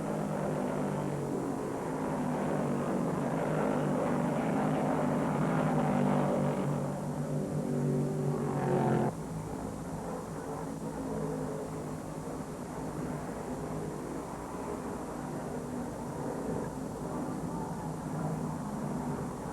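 1971 NASCAR Grand National stock cars, a Dodge among them, race in the World 600 at Charlotte Motor Speedway, their engines a continuous loud roar that drops abruptly partway through and then holds steady.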